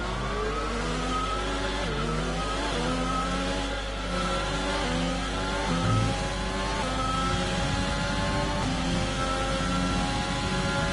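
Race car engine in a racing video game, loud and continuous, revving up through the gears with repeated rising whines and shifts during a flying lap.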